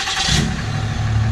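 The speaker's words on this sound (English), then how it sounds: "truck will fire right up" A 2017 Ram 2500 truck engine starts by remote start, cranking and catching into a loud, close, steady rumble that settles into idle.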